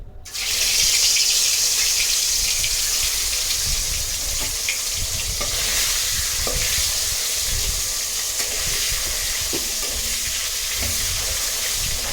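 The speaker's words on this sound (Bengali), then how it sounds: "মাছ ভেজে নেই" Fish frying in a pan gives a constant, close hiss of sizzling oil with a few faint pops and clicks, and no voices.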